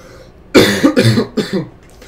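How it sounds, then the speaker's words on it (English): A person who is under the weather coughs roughly three times in quick bursts, loud and close, with a short pause before the last cough. "Sorry for the coughing, guys."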